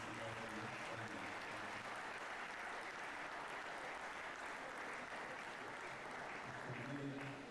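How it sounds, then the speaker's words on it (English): Continuous applause from a hybrid university engineering conference audience, a steady distant wash of clapping with voices audible beneath it. "let me once more request that we applaud this wonderful lady, Dr. Nnamdi Azikiwe"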